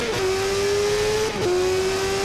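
A Super Sport motorcycle accelerates hard out of a tricky corner in the racing game TT Isle of Man. Its steady, loud, close engine drone holds one pitch, dips briefly as if changing gear, then carries on alone.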